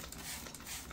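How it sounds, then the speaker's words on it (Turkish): Clean water misted from a hand spray bottle over germinating seeds: soft, close hissing bursts with faint trigger clicks, quiet and brief with no talk. "Bunları ıslatma şeklinde şöyle bir spreyle yapacağım"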